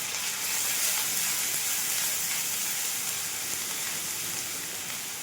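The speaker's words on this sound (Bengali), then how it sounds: "দিয়ে আমি এগুলোকে আমি আবার ভালো মতো ভেজে নিলাম।" Ginger-garlic paste with ground cumin, coriander and chili pastes, salt and turmeric fry in a pan for fish kofta curry, giving a steady, even hissing sizzle throughout, moderately loud and close.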